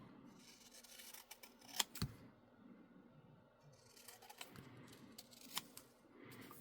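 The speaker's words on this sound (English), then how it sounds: "where's my scissors? I'm going to cut this a little smaller" Quiet snips of scissors cutting a printed label smaller, a couple of sharper clicks near the start and middle, with soft rustling in between and no talking.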